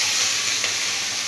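Ground kochu leaf paste hits a hot wok and sizzles loudly, a continuous bright frying hiss with a slight swell partway through, close and uninterrupted.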